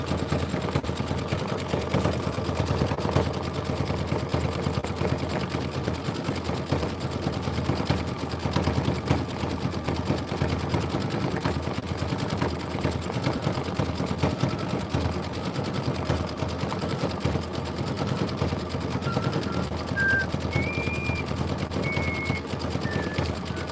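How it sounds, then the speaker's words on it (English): An embroidery sewing machine stitches a quilted tiling-scene design with a fast, continuous mechanical chatter, steady and close throughout, with faint beeps near the end. "And then we're going to do the rest of the stitching."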